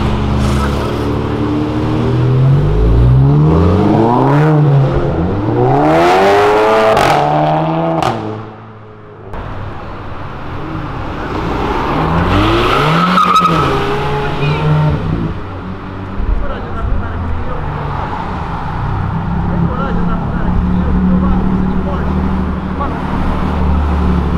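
A 300 hp Golf GTI accelerates hard along a city avenue, its engine rising through repeated sweeping gear pulls near and loud, with people talking over the traffic.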